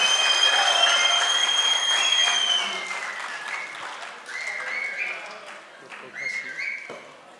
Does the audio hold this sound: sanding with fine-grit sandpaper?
no